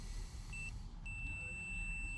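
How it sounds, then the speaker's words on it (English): A multimeter on continuity test gives a thin electronic tone that beeps twice, first a short beep and then a longer sustained one, over a low background hum. "And you can hear that beeping there."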